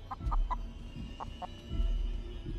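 Chickens clucking in a video game, a few short nasal clucks in quick bursts over a low rumbling background, fairly close and clear.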